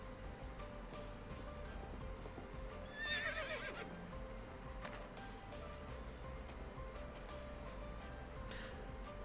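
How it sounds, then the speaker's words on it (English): A horse approaching in the video game Dragalia Lost, with steady clip-clopping hooves and one clear whinny partway through over a soft ambient background. "I think I actually hear a horse coming"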